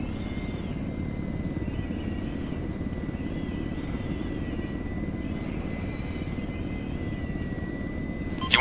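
A helicopter in a military video game drones steadily, its rotor and engine hum constant and moderately loud for several seconds, with no voices over it.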